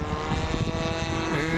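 Propeller aircraft turning onto downwind, a steady droning engine hum with a constant tone, moderately loud and continuous over a short stretch.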